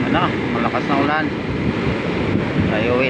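Large waves surge and break over a reef while a fishing boat rides rough seas in heavy rain, a loud, continuous roar with strong wind buffeting the microphone and someone talking throughout.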